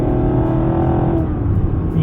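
A Lexus LC 500 Cabrio 2025 V8 in Sport mode gives a loud, close, throaty engine drone with a steady rev, continuous for the whole short stretch, with no voices.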